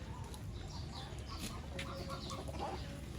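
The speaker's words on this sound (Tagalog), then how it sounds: "Yung mga manok pa." Chickens cluck softly at a farm or animal park, faint and somewhat distant against steady outdoor background noise, with no clear talk over them.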